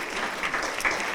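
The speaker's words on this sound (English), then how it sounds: "Clap, clap, clap." Steady audience applause fills the space, a dense wash of many hands clapping at once at an event about motorcycles and multiple sclerosis, even in level with a few brighter bursts, with no voices over it.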